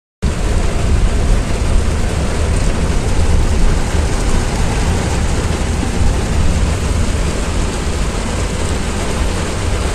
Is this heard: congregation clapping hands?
no